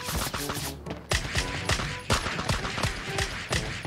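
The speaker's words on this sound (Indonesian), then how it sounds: "Ada suara tembakan cuy." Rapid bursts of gunfire crackle in quick succession in the video game Sausage Man, several sharp shots spaced through the clip over a busy background, loud and fairly close.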